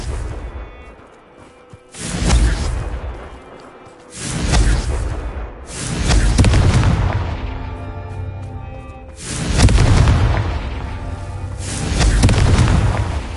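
Confringo fire spell going off repeatedly in a Harry Potter video game: five deep booming explosions with swelling rumbles, each following the last every two to three seconds, loud and close.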